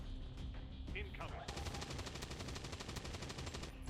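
Suppressing gunfire in XCOM 2: a fast, steady burst of automatic shots runs close and loud for several seconds after a brief lead-in.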